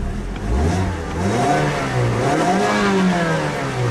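A 2015 Mazda CX-5's 2.5-liter Skyactiv-G four-cylinder engine revs up and eases back in smooth, rising and falling sweeps, close and steady.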